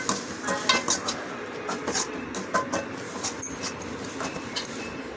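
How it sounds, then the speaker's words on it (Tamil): Onions sautéing with garlic and dried chillies in a pan for a Tamil sour-greens (puli keerai) dish, with steady sizzling and repeated scraping and stirring clinks of a utensil against the pan, close and continuous with no talk. "வெங்காயம் போட்டு நல்லா செவந்து வரட்டும்,"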